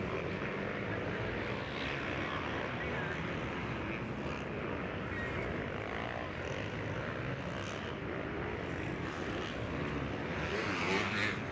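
A 450cc motocross bike roars past at a Mammoth Motocross pro race, its engine a dense, continuous drone that swells and holds loud throughout, with no clear voices over it.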